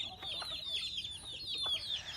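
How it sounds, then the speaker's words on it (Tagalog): Chickens cluck and chatter in a close, continuous flurry of short calls on a farm, with no voices over them. "Dagan na magud manok dari mga kabads oh."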